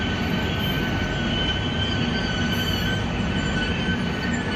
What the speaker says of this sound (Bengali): আমি এখন আছি দুর্গাপুর রেল স্টেশনে